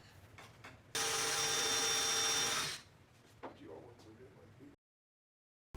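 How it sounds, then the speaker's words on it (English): A power drill bores into a shower wall for mounting a shower door, a loud steady whine of about two seconds, then quieter handling and knocks. "Remove the door and drill these 6 holes."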